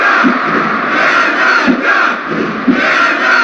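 A roaring arena crowd in the PlayStation 1 wrestling game WWF War Zone, a dense continuous cheer that swells in waves, with a few sharp thumps cutting through.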